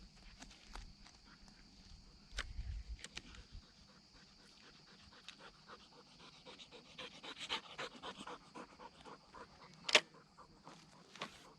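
Rapid, rhythmic panting of a female dog close by, with light footsteps and clicking paws on a hard floor and one sharp tap near the end.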